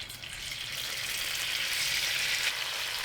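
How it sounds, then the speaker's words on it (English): Tofu cubes pan-frying in vegetable oil over high heat give off a steady, moderate sizzle that swells slightly toward the end, with no talking. "add 2 tablespoons of vegetable oil and pan fry the tofu for 8 minutes"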